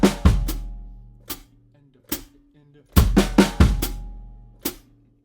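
Acoustic drum kit playing a sparse fill: loud kick-and-snare hits with flams at irregular spacing, several sharp cracks with ringing decay and short gaps of near silence between them.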